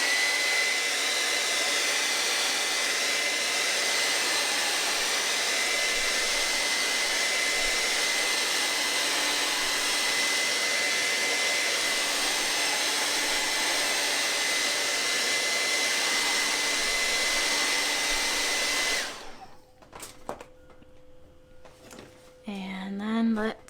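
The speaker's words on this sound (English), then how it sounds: "I'm gonna just blow dry it really quick." A hair dryer blows steadily on wet paint on a hand-painted sign, a loud continuous close whir lasting about nineteen seconds before switching off, followed by faint handling noises.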